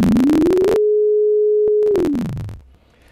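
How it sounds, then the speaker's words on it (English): A pure electronic synthesized sine wave tone sweeps upward, holds steady for about a second, then glides back down and fades, with buzzy pulsing at the start and end. "sonify mathematical formulas, for example here a sine wave"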